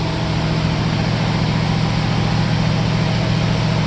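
An opened-up, rusty garage engine runs on its own, loud and close, in a steady droning idle with an even low hum throughout.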